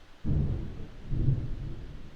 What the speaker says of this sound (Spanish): La tormenta rugía afuera mientras miraba las 2 últimas cintas.